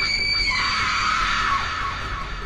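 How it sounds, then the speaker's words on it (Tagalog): A loud, piercing scream rings out as a horror story sound effect, a single sustained shriek lasting about two seconds with no talk over it. "bigla kaming nakarinig ng malakas na sigaw."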